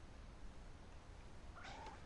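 A cat in the video game What Remains of Edith Finch gives one short meow near the end, rising over a steady, noisy game background.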